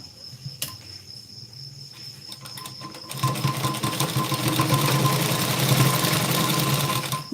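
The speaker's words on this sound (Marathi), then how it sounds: "आपण काय करू एकदा डबल टिप देऊन घेऊ" Sewing machine stitching a double seam on a blouse: after a few quiet seconds with faint ticks, it starts into a loud, steady, rapid buzzing run that continues to the end, with no talking.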